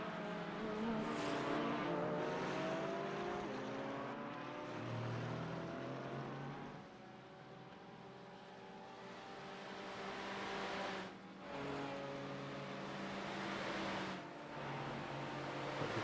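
Race cars lapping Bathurst Mount Panorama in a racing video game, engines droning and shifting pitch as several cars run together, steady and moderately loud with no talk.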